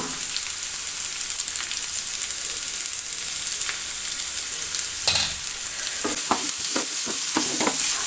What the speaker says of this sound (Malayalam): അതിലേക്ക് ഞാൻ ഒരു രണ്ട് സവാള കൊത്തി അരിഞ്ഞത് ഇട്ട് കൊടുക്കുന്നുണ്ട് അതൊന്ന് നമുക്ക് ഇതേപോലെ ഒന്ന് വാട്ടിയെടുക്കാം